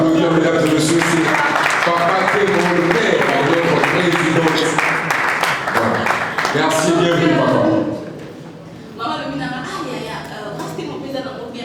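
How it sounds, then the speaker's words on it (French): An audience claps loudly and continuously at a foundation launch event. Someone talks over the applause, which fades to a quieter patter near the end. "on va applaudir, mesdames et messieurs"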